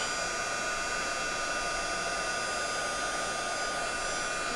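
A heat tool blows steadily while melting embossing powder on a card project, a constant close, loud airy whoosh like a hair dryer running alone throughout with no pauses.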